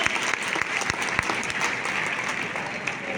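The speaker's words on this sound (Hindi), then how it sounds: "तो सबसे पहले मैं चाहूंगा इन सब के लिए जबरदस्त ताली होनी चाहिए" Dense, steady audience applause at a gathering, a continuous wash of many hands clapping close and loud throughout with no voices over it.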